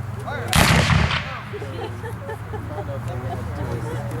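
At a Civil War reenactment in Livonia, Michigan, a line of rifles fires one loud, booming volley that rolls out briefly, followed by outdoor crowd chatter and voices.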